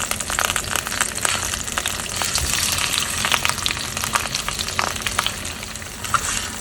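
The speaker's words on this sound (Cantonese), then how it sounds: "而家要反轉佢再煎先。" A fish head fries in oil in a pan for soup, a close steady sizzle with popping spatters and crackles throughout, no one speaking.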